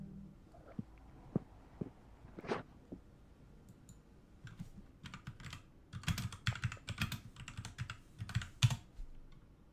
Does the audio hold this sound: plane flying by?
no